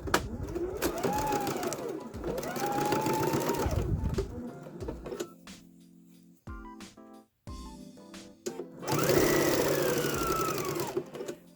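A sewing machine runs in two sustained stitching bursts on fabric, then goes quiet for a few clicks and short taps before it starts stitching again, loud and close.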